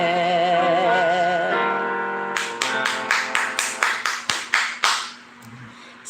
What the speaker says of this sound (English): 7 Hebrew claps for that song